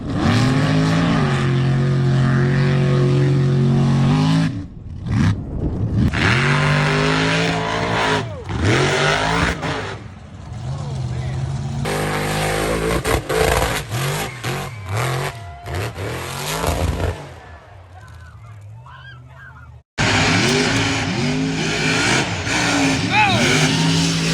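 A lifted mega truck revs its engine hard while driving, loud and rowdy throughout with repeated surges, brief cutoffs and a near-silent gap before the roar returns.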